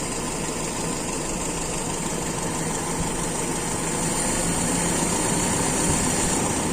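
A large stationary petrol engine with a carburetor jet under test runs at steadily climbing revs, giving a continuous loud droning hum with a faint rattling vibration close by and no voices.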